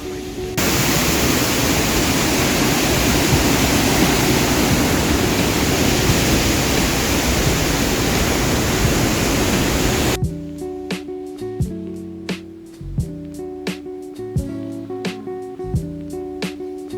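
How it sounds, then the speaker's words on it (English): Glacial waterfalls roar as a loud, dense, continuous rush for about ten seconds, then the sound cuts off abruptly and music with rhythmic beats takes over. "We're at the waterfalls, and to see all 10, it's a climb up."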